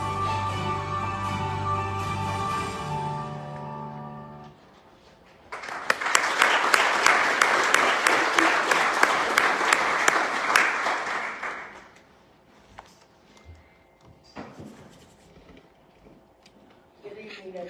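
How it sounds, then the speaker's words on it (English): At an awards ceremony, a few seconds of music fade out, then an audience bursts into loud, dense applause for about six seconds before it dies away into quieter room sounds. "We applaud you for your devotion to service and congratulate you on this honor."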